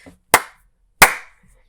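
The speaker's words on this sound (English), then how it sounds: "The king claps so hard, his hands make a loud noise echoing off the castle walls." A king claps his hands hard twice, about a second apart, in a castle. Each clap is a sharp, loud smack with a short ringing tail off the walls, with no voices around it.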